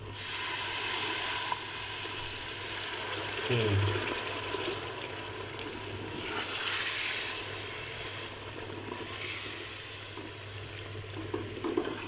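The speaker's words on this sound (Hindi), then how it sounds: "हम इसमें थोड़ा सा पानी ऐड कर देते हैं ताकि हमारे मसाले जल ना जाएं" Water poured into hot spices in a cooking pan while making haleem gives a loud, steady hissing sizzle that eases gradually over several seconds, with no talking over it.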